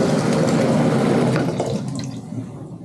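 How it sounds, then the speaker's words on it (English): Hot water runs steadily from a tap in a full, rushing stream, close by, easing off slightly toward the end; no talking. "Oh, I need to get some hot water first."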